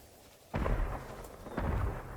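Fireworks and explosions from the video game Ghost of Tsushima: two sharp, booming bursts about a second apart, each with a rumbling tail, against a steady low background.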